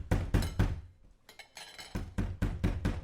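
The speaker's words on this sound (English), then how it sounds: "All of a sudden you hear a bang at the door." Loud heavy bangs on a door come in rapid groups of knocks, then a short pause, then more clustered pounding, close and forceful.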